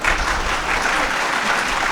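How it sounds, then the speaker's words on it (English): A room of university students claps together in Lahore, a dense, loud burst of applause from many hands close by, steady across the whole moment with no speech over it. "So, all the students are clapping."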